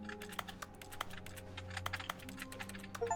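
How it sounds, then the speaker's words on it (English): A computer keyboard's E key is tapped over and over in quick, uneven clicks, close and fairly quiet, with no voices. "Spamming the E button."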